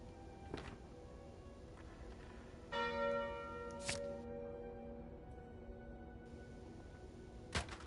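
A single bright bell chime rings out in Slay the Spire as the Calling Bell relic is taken, a clear struck tone with a sustained ringing decay, framed by sharp clicks and no talk.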